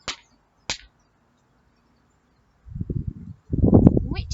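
Hands clapping out a word's syllables, three sharp claps in all, two crisp and close near the start and one more at the end, with a voice speaking between them.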